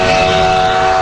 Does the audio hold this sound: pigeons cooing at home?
no